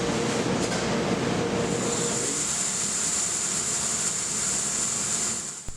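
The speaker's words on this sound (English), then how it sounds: "We can put 200 pounds of coffee into our flavoring barrel and tumble it with our natural liquid flavorings for a couple of minutes" A flavoring barrel loaded with up to 200 pounds of coffee beans tumbles them with natural liquid flavorings at a roastery, giving a loud, continuous rumbling churn with a steady high whine and no talk.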